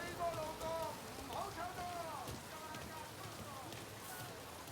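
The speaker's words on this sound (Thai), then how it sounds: "แล้วคือฝนตกนะ" Rain falls in the video game Mafia Definitive Edition, a constant soft patter on surfaces throughout while someone talks over it.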